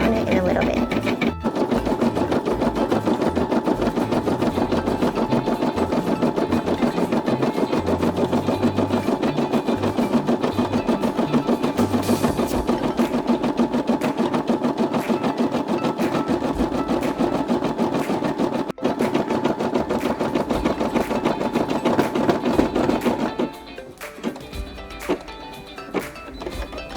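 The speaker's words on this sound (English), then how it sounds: "I'm going to just let it run, and we'll come back and check on it in a little bit." A Brother SE600 embroidery machine stitching a custom digitized elephant design, a steady, loud, rapid mechanical chatter running continuously for most of the span before dropping away near the end.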